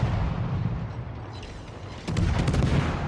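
Naval gunfire in the World of Warships game: a rumbling, continuous roar of heavy ship guns, swelling louder near the end with a burst of sharp reports, no voices.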